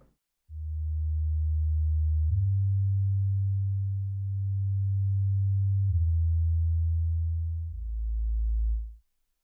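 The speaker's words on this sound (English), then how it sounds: "I usually layer a sine wave or um, some low uh, frequency synthesizer under the bass line" A low sine wave synthesizer layer made for sitting under a bass line plays alone as a smooth, pure, sustained deep tone, stepping between a few held pitches before it stops abruptly.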